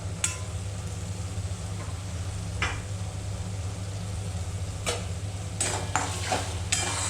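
Chicken bharta masala with chili powder frying in a pan, a low steady sizzle broken by several sharp scraping stirs of a spatula, the strokes clustering toward the end.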